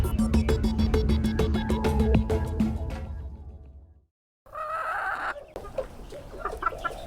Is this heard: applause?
no